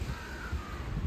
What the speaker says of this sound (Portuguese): alimentar os corvos